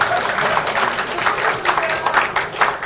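An audience claps steadily at a forum event in Korea, a dense, sustained patter of many hands that stays fairly loud and even throughout.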